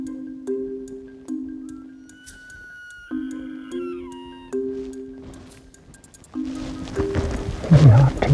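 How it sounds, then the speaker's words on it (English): Wild elk bugle in the Colorado backcountry: a series of high, pure whistling calls that rise and fall, some sliding upward, followed by rougher grunting chuckles near the end, fairly close and with no talking. "It doesn't take long, and we're listening to elk."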